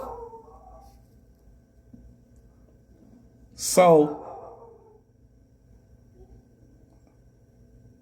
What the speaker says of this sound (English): I got a blue-nosed bully. And she keep on barking.